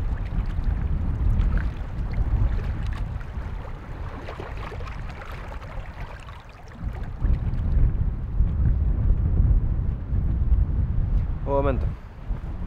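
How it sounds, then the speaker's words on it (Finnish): Strong wind buffeting the microphone in heavy, roaring gusts, with a brief spoken greeting partway through, in the Vätsäri wilderness on a September night. "Täälläkään nyt on aika kova tuuli."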